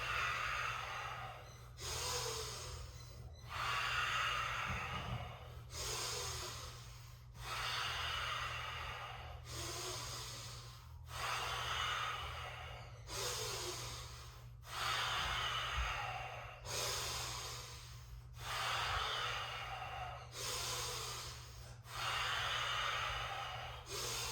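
Slow, deep guided breaths in and out repeat in a steady rhythm, roughly every two seconds, close to the microphone, with no talk over them.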